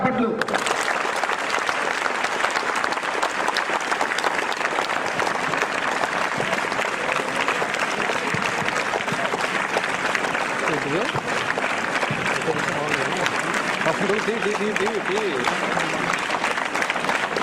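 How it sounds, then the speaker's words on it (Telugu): Loud, sustained audience applause fills the hall at a motivational speech event in honour of a guest, steady dense clapping throughout with faint voices underneath. "గట్టిగా చప్పట్లు."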